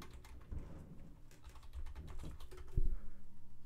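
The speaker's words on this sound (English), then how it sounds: "now it'll let me type?" Someone types on a computer keyboard during an online Commander card game, a few soft, scattered key taps close by, with no talk over them.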